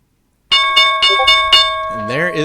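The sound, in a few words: stock market opening bell ringing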